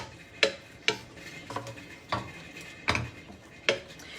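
Mushroom cauliflower risotto with butter and garlic is tossed and stirred in a pan, with a spoon knocking against the metal in spaced clinks and scrapes over a faint sizzle.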